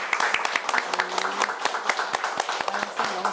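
A small audience at a book talk gives a brief, light round of clapping, fairly quiet and thin with a few scattered claps, while a voice speaks over it.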